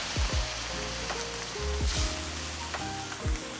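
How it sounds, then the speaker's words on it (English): Red wine is poured into a hot pan of darkened tomato paste for a lamb shepherd's pie, producing a loud hiss and bubbling sizzle with several clinking utensil knocks over the steady frying. "I'm gonna deglaze the pan with some red wine."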